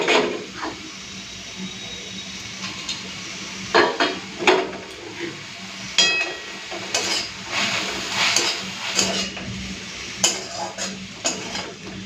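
Fried potatoes are tossed into sautéed greens and stirred, a low sizzle running under irregular clanks and scrapes of the spatula against the pan, close by and with no talking.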